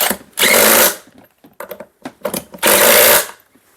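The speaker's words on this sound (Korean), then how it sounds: "볼트를 다시 강하게 체결해 주면 됩니다" Power tool tightening bolts on a gaming chair backrest: two loud whirring bursts, each under a second, separated by short clicks and light knocks.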